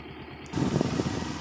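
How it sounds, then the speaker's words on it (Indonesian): A Kawasaki Ninja 250 motorcycle with a power fault, which cannot pick up speed under full throttle, sets up a steady, low engine drone that cuts in abruptly after a quiet half-second and holds at moderate loudness. "dia dibuat gaspol, dia tidak mau berjalan kencang ya. Dia tidak bisa lari ya motornya ya."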